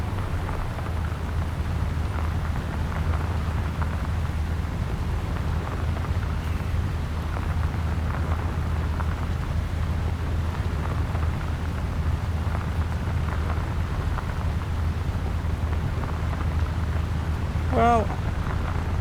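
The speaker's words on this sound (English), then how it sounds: "the rain just breaks up the monotony" Video game rain: a steady hiss falls continuously over a low, constant rumbling drone, with one brief higher chirp near the end.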